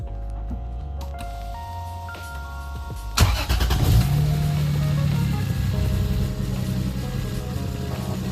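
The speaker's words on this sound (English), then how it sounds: "So I'm gonna go start it up, check for any leaks." Lexus GS300 engine with a Flowmaster exhaust manifold cranking and firing up, the starter whirring before the engine catches and settles into a steady, close idle.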